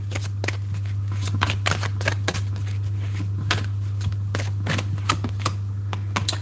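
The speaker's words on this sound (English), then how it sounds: "I'm going to pull 3 cards, and these are called the Angel Answers Oracle." Angel Answers oracle cards shuffled by hand, a quick run of crisp riffling snaps and slaps close up, over a steady low electrical hum.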